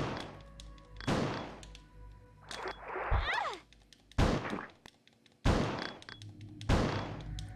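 Several sharp, loud gunshots fired at a spider in the video game Resident Evil 1.5, spaced about a second apart with gaps between bursts, alongside a brief creaking in-game sound in the middle.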